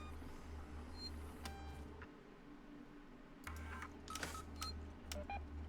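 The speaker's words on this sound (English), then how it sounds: "my tracker keeps beeping at me" Motion tracker in a sci-fi video game giving a few short electronic beeps over a low steady hum, quiet and sparse, with no talking.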